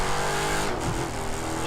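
A Dodge Charger engine revs in The Crew 2, a loud, sustained throaty roar that briefly dips in pitch mid-way before holding steady and strong.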